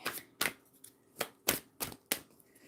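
A deck of playing cards being shuffled by hand, giving several sharp papery riffles and snaps spaced irregularly about half a second apart, close and fairly quiet, with no talking.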